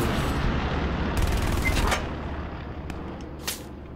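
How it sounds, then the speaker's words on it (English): Enemy machine gun fire in the game Hell Let Loose: a dense, sustained rattling burst of about a second rings out, followed by quieter scattered crackling and one more distant shot. "Alright, enemy infantry, right, machine gun, straight ahead."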